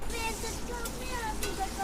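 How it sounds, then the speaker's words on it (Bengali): Sliced potatoes frying in a pan of hot oil give a steady, close sizzle with a few brief sharper crackles, and a voice speaks faintly underneath. "আবারও আমি পরে আরেকটু আলু কেটে ভাজা বসিয়েছিলাম"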